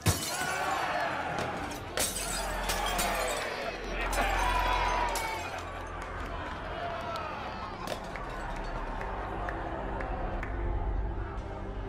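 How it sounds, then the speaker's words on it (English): A drinking glass is hurled and shatters with a sharp crash amid a rowdy tavern scene in a deleted Thor movie sequence, with crowd noise, people talking and further clattering impacts running throughout. "one of Thor's friends throw the glass after drinking, as we saw in the Thor 1 movie"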